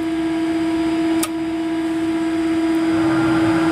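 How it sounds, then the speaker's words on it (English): Bleed air from the APU of a Citation Excel jet flows into the cabin as the valve opens: a constant loud rushing hiss over a steady mechanical hum, with a brief click partway through. "There the bleed air valve comes open."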